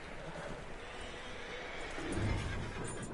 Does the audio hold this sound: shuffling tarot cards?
no